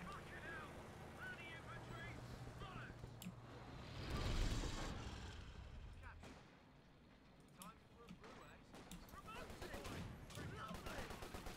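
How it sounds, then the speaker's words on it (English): Mortar fire in a Company of Heroes match, Soviets against British, with a heavy burst of blasts and rumble near the middle over constant battle noise, while a commentator talks throughout. "Mortars firing."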